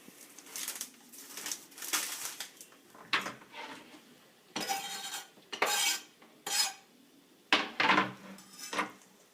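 A knife finely chopping chives on a board makes clustered bursts of crisp, irregular taps and light scrapes, separated by short pauses, close and clear with no speech.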